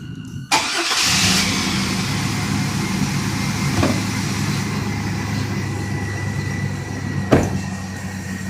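A 2001 GMC Jimmy engine cranks briefly and catches, then settles into a steady close idle hum with a faint click partway through and a sharper knock near the end.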